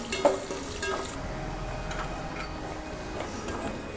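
Onions frying in a pan for khichdi, a steady close sizzle with light crackling and one brief clink near the start.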